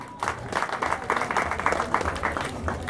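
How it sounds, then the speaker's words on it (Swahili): Crowd applause at a marathon award ceremony in Kenya as a runner is rewarded by the national athletics coach, a steady ongoing patter of clapping held at an even level for the whole stretch. "Makofi mazuri."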